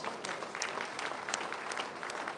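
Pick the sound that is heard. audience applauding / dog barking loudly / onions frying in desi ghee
audience applauding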